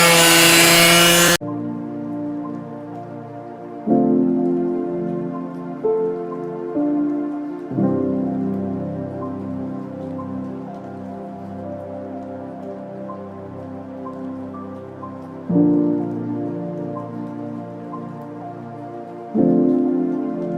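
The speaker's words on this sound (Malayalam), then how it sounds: "ഇത് നമ്മുടെ ഡ്രമ്മ് കട്ട് ചെയ്യുകയാണേ, ഇങ്ങനെയാണ് കട്ട് ചെയ്യുന്നത്." A drum is cut with a power cutter for use as a planter, giving a loud, close, sustained motor whine whose pitch and load shift as the blade bites, with no talking.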